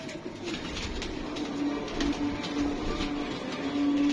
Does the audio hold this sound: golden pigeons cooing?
yes